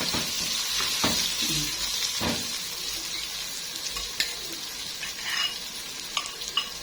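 Rice being stirred in a pot for one-pot Egyptian koshari, a steady scraping and shuffling stir with soft sizzling underneath and a few sharper knocks of the spoon, close and moderately quiet, with no talking.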